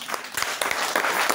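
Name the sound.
congregation applauding loudly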